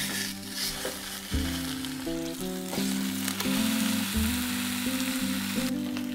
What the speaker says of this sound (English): we're going to add the lamb shoulder to the slow cooker and sear it on all sides until browned